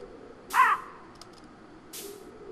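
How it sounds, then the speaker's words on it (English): A single crow gives one harsh, close caw, followed by a fainter second call a moment later, over quiet outdoor background. "Crows for days."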